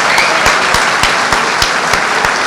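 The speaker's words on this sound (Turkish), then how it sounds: "Ben de hepinizi alkışlıyorum." Applause from the audience at a CHP party congress in Nilüfer: a dense, steady wash of clapping with sharper individual claps standing out at a regular beat, loud and close, with no talk over it.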